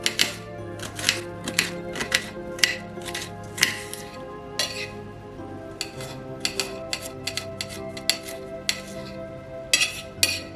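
Onion and garlic being diced with a knife on a board give rapid, close, crisp taps in irregular bursts over a steady faint background hum, with no voices.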